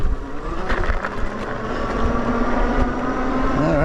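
WILDEWAY SummitX AWD electric bike climbing a hill under throttle, a fairly loud, rough rush of motor and wind noise with bumpy thuds, building slightly and whining higher near the end.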